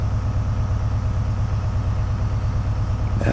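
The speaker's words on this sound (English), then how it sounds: "Oh, listen to that engine." A train engine hums in Train Simulator on the South Wales Coastal route between Cardiff and Bristol, a steady, low, droning rumble that holds even throughout.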